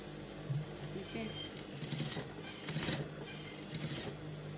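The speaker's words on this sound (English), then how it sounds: "So you have to be very, very careful when you're sewing it, so as to have a very neat finish." A sewing machine stitches a cowl kaftan dress, a soft rapid mechanical whir running in short steady bursts close by, with a voice speaking over it at times.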